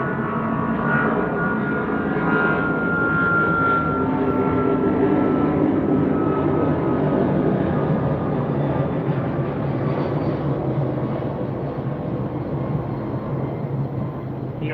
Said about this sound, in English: I'm gonna let this fucking plane overhead